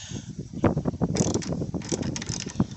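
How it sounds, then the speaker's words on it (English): A 14mm socket on a ratchet works loose the wiper arm nut on a 2013 Hyundai Genesis sedan, giving close, repeated clicking and metallic mechanism noise in short bursts, with light wind noise behind it. "you're going to get a 14mm socket and start removing"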